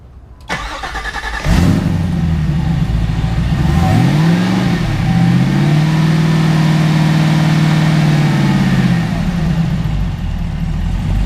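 A supercharged LT4 V8 in a Jeep Wrangler cranks and catches, revs briefly, then settles into a steady, smooth, loud idle up close with no one talking.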